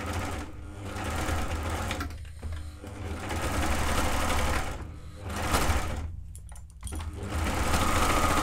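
Sewing machine, an overlocker, stitching seams on children's overalls, running in loud steady bursts that stop briefly for pauses before whirring again, with no talking.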